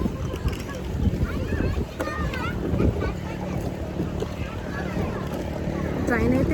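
Boat ride on open water with steady wind buffeting the microphone and a low rumbling wash of water and motor, while voices talk over it.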